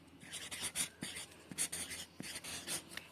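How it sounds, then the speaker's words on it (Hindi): A pen writing a word by hand on paper, close and quiet, in a series of short scratchy strokes with brief pauses between them. "मैं एक शब्द लिखती हूँ अपने सीधे हाथ से"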